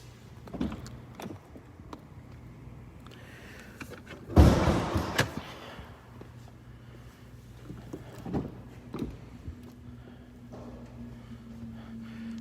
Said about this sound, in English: I'm going to open up all the doors, show you how this car looks.